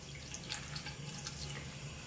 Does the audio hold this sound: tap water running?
yes